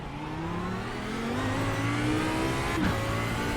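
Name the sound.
Audi R8 LMS EVO II GT3 race car engine in video game iRacing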